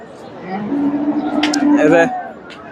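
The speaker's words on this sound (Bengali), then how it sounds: "এখানে একটা দেখেন সার গরু" At a crowded Eid sacrifice cattle market, a local crossed with Sahiwal bull gives a drawn-out low moo close by, over the murmur of people talking nearby.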